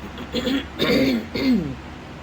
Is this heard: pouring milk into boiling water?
no